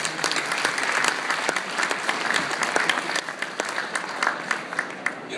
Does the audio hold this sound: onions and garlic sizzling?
no